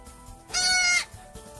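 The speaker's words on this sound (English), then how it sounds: "I had an unexpected delivery from my goat, Juliet." A farm goat, newly kidded, lets out a single loud, bright bleat lasting about half a second, close by, with soft background noise before and after.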